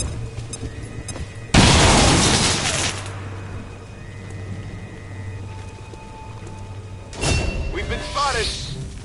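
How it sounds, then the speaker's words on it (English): Grenade blast in the video game XCOM 2, a loud close broadband boom that rolls off over about two seconds, followed later by a second weaker burst, with game tones and hum beneath. "Grenade out!"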